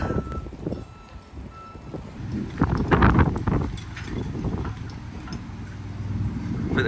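Strong storm wind buffets an HGV truck hauling a large machine, a continuous loud roar with rumbling low gusts that swell around the middle and stay steady, alone without talk.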